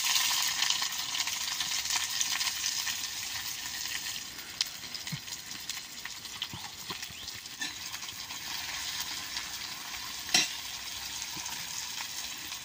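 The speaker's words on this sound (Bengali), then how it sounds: "তেলটা গরম হয়েছে, পেঁয়াজ আর কাঁচামরিচটা দিয়ে দিব।" Onion and green chilli fry in hot oil in a wok, a soft, constant sizzle with a few light stirring clicks and taps scattered through, no voices.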